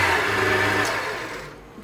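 An electric mixer whirs steadily through cake batter for a mini cake with dried fruit, a close buzzing motor that fades toward the end.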